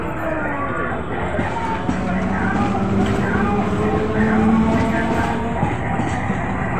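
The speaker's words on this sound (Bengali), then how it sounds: "দেখো ট্রেনটা চলে যাচ্ছে," A train pulls out of Hooghly Ghat station in Chuchura, its steady rumble and clattering wheels staying loud and close throughout, with voices murmuring faintly beneath.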